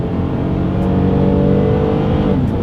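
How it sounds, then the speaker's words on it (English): A 2022 Toyota Highlander accelerates hard, its engine note rising steadily and loud from the start to the end, heard from close by with no talking. "let's see how quickly we can get our new 2022 Highlander here up to speed"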